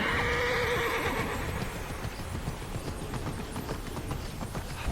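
A horse whinnies loudly at the start in the video game Immortals Fenyx Rising, followed by a soft rhythmic clip-clop of hooves amid busy ambient noise.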